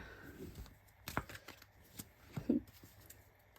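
A deck of cards is cut and shuffled by hand, giving a few crisp riffling flutters and soft taps. The sound is close and quiet, with no talking.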